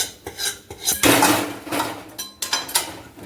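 Almond burfi mixture of almonds and jaggery being stirred in a metal pan with the gas off, giving a busy run of spoon scraping and clanking against the pan, loudest near the middle.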